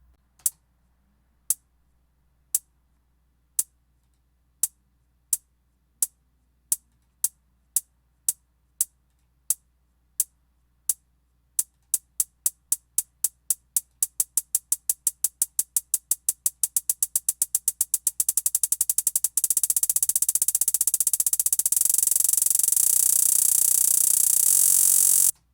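Hi-hat take lanes auditioned in Ableton Live: crisp, bright ticks start sparse and evenly spaced, then speed up steadily into a dense roll that blurs into a continuous hiss, with no voices.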